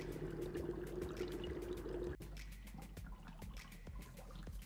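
Water pours and trickles into a container as soap is added, a faint, steady splashing that shifts midway to a thinner dribble with scattered small clicks.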